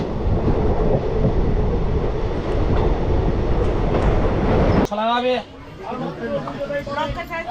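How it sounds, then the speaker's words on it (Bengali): An Azimganj–Krishnanagar passenger train rumbles past loudly and close by, a broad rolling roar that cuts off abruptly partway through, followed by nearby chatter and voices. "five three zero nine two Azimganj Krishnanagar train"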